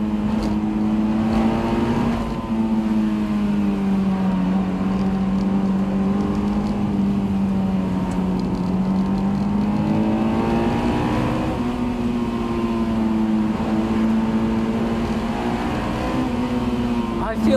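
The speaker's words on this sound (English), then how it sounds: "I think this engine likes to be at the top end. It likes to be revved out." A Honda S2000 engine revs hard toward its top end, a steady, loud, rising and falling high-rpm howl with layered harmonics that holds for the whole stretch. Speech is also present.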